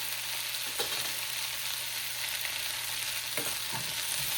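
Food in a pan gets salt, coriander-cumin powder and chili powder mixed in, with a steady background sizzle, a low hum and a few scraping stirs near the start and later; nobody talks.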